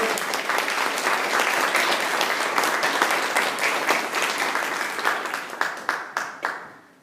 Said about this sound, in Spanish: ¿Cuántos pueden dar un aplauso al Padre Celestial?